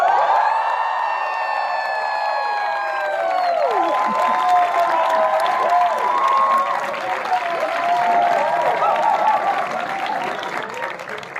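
Graduation audience applauding steadily with cheers and whoops over dense clapping, loud and sustained throughout, with some talking mixed in.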